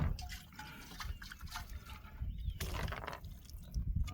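Water sloshing and dripping as it rinses out the gas tank of an old abandoned concrete mixer, a steady close wash of liquid with broadband splashing throughout, no talking.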